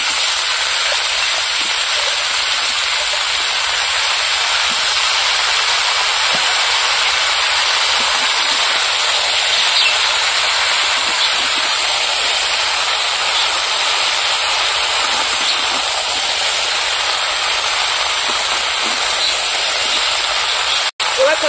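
Potatoes, beans, tomatoes and cauliflower frying in a pan during an outdoor winter cook by a river, giving a steady, loud hiss and sizzle that runs unbroken throughout.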